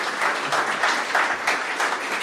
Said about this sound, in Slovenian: tako da en aplavz, prosim, Boštjan Gorenc Pižama.